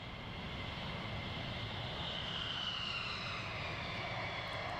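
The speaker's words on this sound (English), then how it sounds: "we'll just hold it here while all the other aircraft come around" Military aircraft taxiing at RAF Lakenheath, with a steady engine roar and whine, distant but continuous and unbroken, with no voices.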